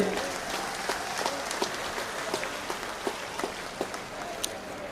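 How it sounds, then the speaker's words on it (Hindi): A crowd at a political rally in Assandh, Karnal district, Haryana, claps to welcome Mayawati, a fairly quiet, continuous patter of hands with a few sharper individual claps standing out. "जोरदार तालियों के साथ स्वागत करें"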